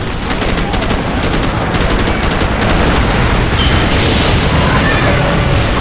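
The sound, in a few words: gunfire in Call of Duty 4 video game battle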